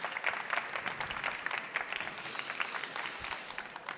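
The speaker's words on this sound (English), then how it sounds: "Round of applause, please." Audience at an electronics awards ceremony breaks into sustained applause, a dense crowd of claps at moderate level that holds steady throughout, with a slight hiss rising in the second half.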